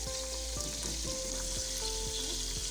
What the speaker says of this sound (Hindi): कीमा भूनने के बाद इसके अंदर मैं डालूंगी 1 चम्मच अदरक पेस्ट